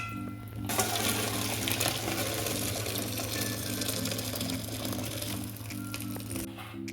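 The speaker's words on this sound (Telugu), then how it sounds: "రైస్ కుక్ అయింది మనం వాటర్ తీసేసుకుందాం" Cooking water being poured off freshly boiled rice for a chicken biryani, heard as a continuous close splashing gush that runs steadily for several seconds.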